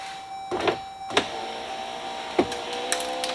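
A Dodge Durango Hellcat power window motor whirs steadily, with a few sharp clicks and thunks as the glass travels down and back up after a break-in.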